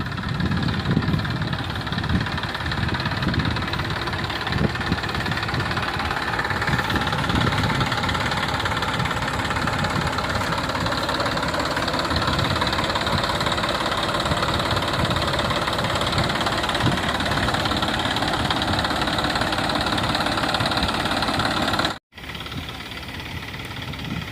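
A tractor engine runs steadily on a farm while organic pesticide is sprayed, a continuous near, loud low rumble holding for over twenty seconds with a brief cut near the end.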